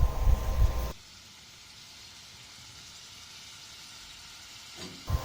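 Kangkong with gourmet dried fish, cooked in coconut milk for laing, sizzles and simmers in a pan while being stirred. A steady, soft hiss carries through most of it, with louder clattering bursts at the start and the end.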